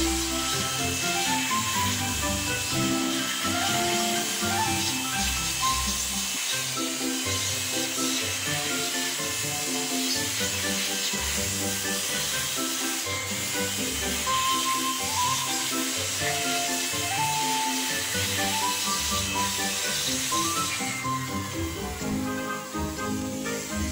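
An air blower hisses steadily and loudly up close as it blasts dust from inside an electric fan under repair, with a continuous rushing tone and some clattering beneath.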